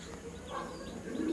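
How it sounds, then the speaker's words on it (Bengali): Pigeons of several breeds, including racers, lakka and Bengal birds, coo softly on a small pigeon farm. The low, faint murmuring calls rise and fall against quiet background noise. "আমার ছোট্ট কবুতরের খামার"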